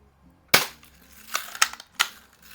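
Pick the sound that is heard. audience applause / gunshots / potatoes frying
gunshots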